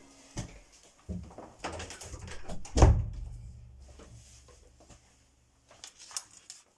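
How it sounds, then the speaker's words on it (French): A house door is shut at home, one solid thud with a short rumbling tail in the middle, framed by faint handling clicks and rustles in a quiet room. "j'ai fermé ma porte parce que mon mari est de retour"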